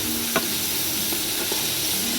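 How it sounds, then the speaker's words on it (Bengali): Steady sizzling of potatoes frying in hot oil, with a few faint utensil clicks and stirring sounds; no one speaks. "আলুটা ভেজে নিচ্ছি।"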